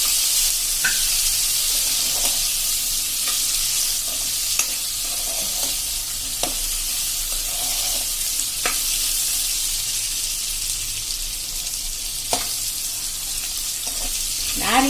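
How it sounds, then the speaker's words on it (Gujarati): Chili peppers and spices fried in oil with a light salting, a steady close sizzle running throughout, broken by occasional scraping clicks of a spoon stirring the pan. "મરચા પણ સેજ 1 મિનિટ આવી રીતે હલાવી લેવાના"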